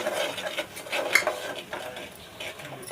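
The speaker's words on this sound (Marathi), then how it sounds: "इथे आता मसाले घालून तेलामध्ये चांगलं परतून घेतलं आहे" Spices and tomato sautéed in oil, a spoon scraping and stirring against the pan in short, soft strokes, with a gentle sizzle underneath, close and fairly quiet.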